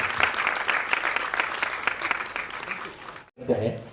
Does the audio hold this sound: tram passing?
no